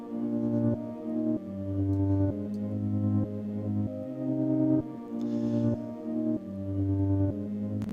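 Synth pad built from reversed samples, soft sustained chords that swell in and cut off abruptly, repeating in a steady slow pattern with no voices.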